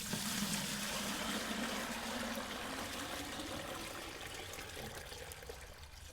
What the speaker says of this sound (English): to do the dilution, I have to pour this into yet another unmarked bucket.